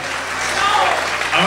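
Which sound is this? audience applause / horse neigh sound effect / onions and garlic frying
audience applause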